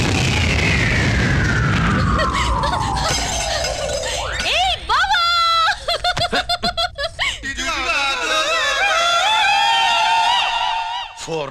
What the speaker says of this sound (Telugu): పూర్ణాలు బాంబుల్లా ఫేలిపోయినాయి ఏంటి?